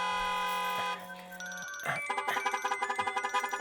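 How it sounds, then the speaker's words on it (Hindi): Phone ringtone playing a steady sustained tone at first, then changing to a rapid repeating electronic chirp pattern, fairly quiet and alone. "यहाँ फोन रिंग हो रहा है"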